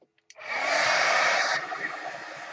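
A hair dryer drying gesso and paint in an art journal switches on after a few small clicks and then blows steadily and close, with its pitch dropping partway through as it keeps running.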